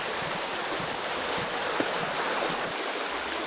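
Running water of a stream in Puck's Glen, a Scottish wooded valley, a steady broad rush close by with no voices, constant and unbroken throughout.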